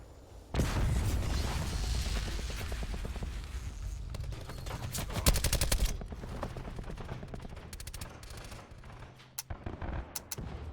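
Online Black Ops 4 match gunfire: rapid automatic bursts and single shots crackle loudly at close range, with a dense volley midway and sharp isolated shots near the end.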